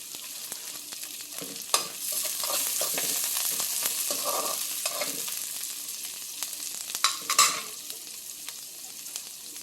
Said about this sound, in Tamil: அதனால் வெங்காயம் பச்சை மிளகாய் வதங்கியும் கருவேப்பிலை போடுறேன்.